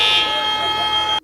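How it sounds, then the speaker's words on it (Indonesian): Fire alarm in a building from a Ms. Marvel episode, a loud continuous electronic buzzing tone that holds steady and then cuts off abruptly at the end. "langsung membunyikan alarm kebakaran di gedung"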